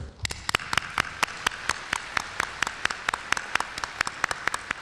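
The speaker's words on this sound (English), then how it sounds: "please give him another warm round of applause" An audience at an environmental conference gives a warm round of applause, heard as steady, regular hand claps, fairly sparse and evenly spaced, clear and close throughout.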